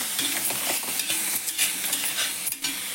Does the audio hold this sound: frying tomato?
yes